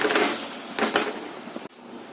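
A spoon clinks and scrapes against a pot while crab curry gravy with dry-roasted spice powders is stirred: a few close metallic scrapes and knocks, then a final clunk and near silence.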